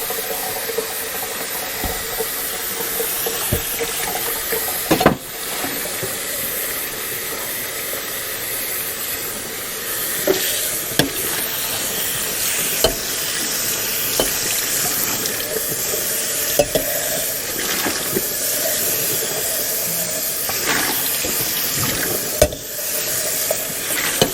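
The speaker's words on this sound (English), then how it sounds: "I'll wash this bowl because I'm going to need it." Tap water runs steadily over a bowl being washed at a kitchen sink, a constant broadband hiss with occasional clinks and knocks of the bowl, close and alone without speech.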